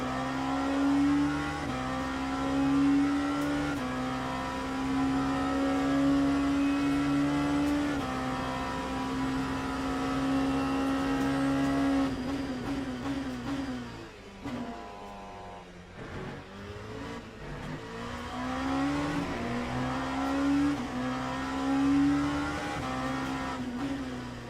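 Race car in a racing video game lapping Monza on cold tyres, a steady high engine drone with repeated upshifts and a dip as it brakes into a turn before revving back up, continuous and loud throughout.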